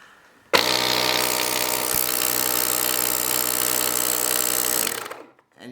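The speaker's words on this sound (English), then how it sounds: "you would hit pump and hold pump for a second or two" A JOMGAND 3750A jump starter's built-in 150 PSI air compressor kicks on abruptly and runs as a loud, steady mechanical buzz for about four and a half seconds, then winds down and stops.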